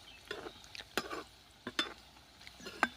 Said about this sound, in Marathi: मस्तपैकी तेलामध्ये सेट झालेली आहे भजी आता आता ही आपण थोडीशी हलवून घेऊया